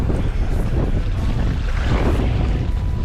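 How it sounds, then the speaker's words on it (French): Strong wind gusting over a Norwegian fjord at the shore, a loud, steady roaring buffet against the microphone with a low rumble, no voices. "Il y a le vent qui s'est levé d'un coup."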